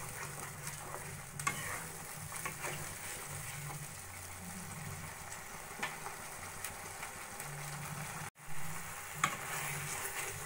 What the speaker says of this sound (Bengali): এবার লো ফ্লেমে যতক্ষণ না মশলাটা কষা কষা হচ্ছে ততক্ষণ আমি কষিয়ে নেব